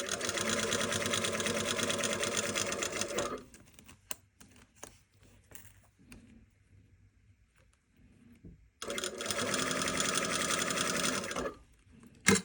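A sewing machine stitches an exposed zipper in two steady, rapid runs of a few seconds each, separated by a quiet pause with faint handling clicks.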